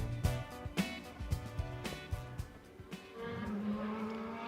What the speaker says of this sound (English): A brief reminder of the heyday of the high revving V8s, V10s and V12s